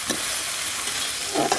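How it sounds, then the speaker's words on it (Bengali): Hilsa fish head sizzling in a pan among cooked-down cabbage, a steady broadband frying hiss with a couple of brief stirring scrapes, close and continuous with no voices. "এবার ইলিশ মাছের মাথা দিয়ে দেবো।"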